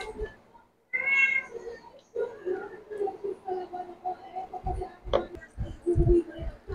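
Several cats meowing around someone at a home mealtime, loud close cries that include a long drawn-out meow, followed by shorter calls, knocks and clatter, with faint voices in the background.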